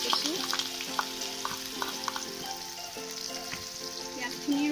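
Finely chopped onions fry in hot oil with nigella seeds, a dense steady sizzle with occasional stirring scrapes close by, no speech.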